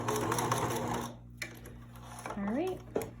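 A sewing machine stitches a fabric face mask in a short close burst, followed by quieter handling sounds and a brief squeak as the stitching ends.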